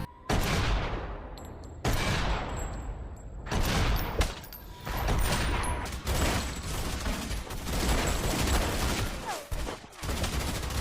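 Bursts of rapid gunfire from a 2003 Steven Seagal action film shooting scene, loud volleys in several separate bursts with short gaps between them.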